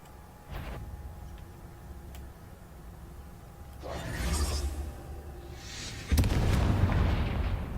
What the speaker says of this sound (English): Why is there so many explosions going on?